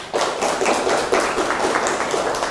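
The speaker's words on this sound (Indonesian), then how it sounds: "berikan tepuk tangan" Students in a classroom clap together in a steady, fairly loud patter of hand claps lasting a couple of seconds, with no voices over it.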